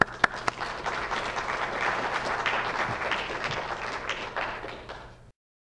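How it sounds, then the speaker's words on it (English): Sustained audience applause for a speaker at a medical session on later-stage melanoma treatment, a dense steady wash of many hands clapping in a hall that starts with a few sharp claps and fades out near the end. "please give Dr. Kuhn a round of applause"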